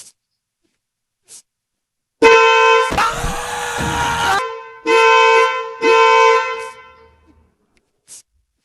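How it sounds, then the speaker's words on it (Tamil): A newly fitted horn on a Maruti Celerio car honks loudly in three blasts, one long blare followed by two shorter ones, with quiet clicks before and after. "இந்த ஹாரனோட சவுண்ட் எப்படி இருக்குன்னு இப்ப பாருங்க."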